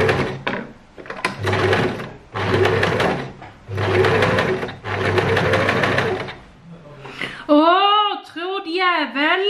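A sewing machine stitches in several loud, close bursts lasting a second or more each, separated by short pauses, before a voice speaks expressively over the last few seconds.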